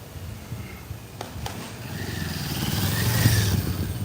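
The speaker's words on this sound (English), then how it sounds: "Looks like a cop coming up ahead here on a police motorcycle." A police motorcycle on a Shenzhen street at 4 AM, its engine rising steadily from mid-distance to a louder, closer drone, heard over the continuous road rumble of a bike ride with no talking.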